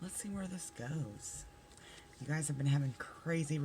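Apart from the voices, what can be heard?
No everyday noise stands out behind the speech.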